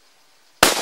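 A single sharp rifle shot cracks out during a boar hunt, loud and close, abrupt after near silence.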